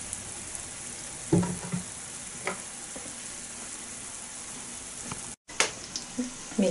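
Fish fingers frying in oil in a pan, a steady crackling sizzle throughout with a few sharper pops and scrapes, and a brief dropout near the end.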